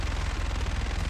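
Enemy machine gun fire in the shooter game Delta Force, a dense, loud, rapid burst of automatic shots with a steady rattling rhythm filling the whole moment, with no voices.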